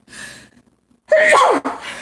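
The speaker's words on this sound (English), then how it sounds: "I am gonna sneeze." A single sharp human sneeze bursts out close to the mic after a brief quiet inhale, followed by a short tail of breath.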